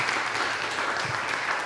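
Steady audience applause at a racial justice town hall honoring newly welcomed Black faculty panelists, a dense continuous patter of many hands at even loudness for under two seconds.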